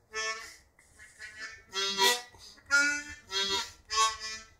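A Suzuki Overdrive harmonica riff is played with a finger accidentally left down, so the reedy notes come out uneven and choppy across several close phrases with dips and gaps between them, and no voice is heard.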